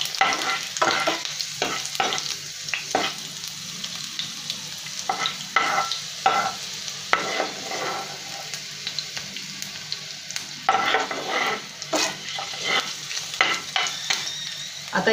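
Spices and chili sizzle and get stirred in a pan for a Maharashtrian prawn curry, with repeated scraping strokes of a spoon over a steady frying hiss, close and fairly loud.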